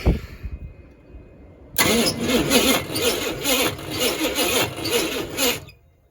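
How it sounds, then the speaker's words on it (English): The starter motor of a Chevy K5 pickup on a weak battery cranks slowly and laboriously, a close, loud labored whirring with rhythmic pulses that lasts several seconds after a brief quieter stretch, then stops without the engine catching. "That starter's struggling."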